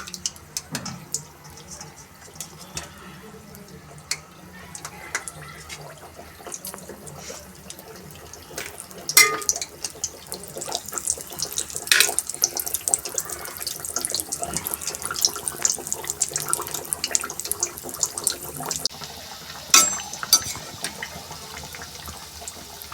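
Matar kachori, green pea-filled pastries, fry in low-heat oil with a continuous close sizzle and scattered crackling pops that grow busier partway through, without talk.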